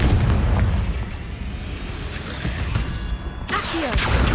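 A Confringo blasting curse detonates in the video game Hogwarts Legacy as a loud, sustained booming rumble from the start, fading slightly before a second burst near the end; no one talks.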